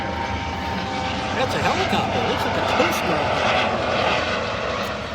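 A helicopter passes overhead on the Appalachian Trail, its engine and rotor drone rising and holding steady while people talk nearby.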